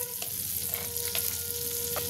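A generous amount of butter sizzles on a hot chatu griddle while tandoori chicken is being prepared, giving a close, steady frying hiss with small crackling pops.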